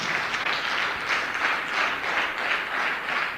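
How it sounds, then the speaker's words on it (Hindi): Steady applause from a seated audience of a hundred or more at a Hindi-language motivational talk, a dense continuous wash of many hands clapping that swells gently in waves and fills the whole moment without any voices. "इनके लिए जोरदार तालियां बजाइए आप"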